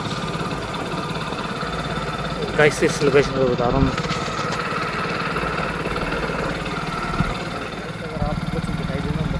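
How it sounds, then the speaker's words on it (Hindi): A motorcycle idles at night on a lonely road, its low, steady engine rumble running under someone talking throughout. "अब बाइक से चलूँगा मैं।"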